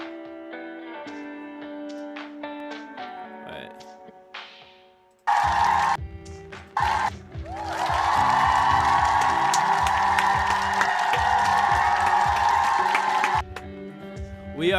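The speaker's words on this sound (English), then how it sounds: "I need to get some audience cheer sound effects in here" Canned audience cheering and applause played over a live stream swells loudly after a pause and holds as a dense crowd roar for several seconds before dropping away.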